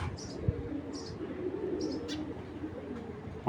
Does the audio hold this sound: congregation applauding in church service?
no